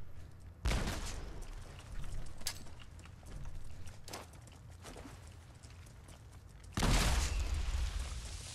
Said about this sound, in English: let me just use one of these grenades here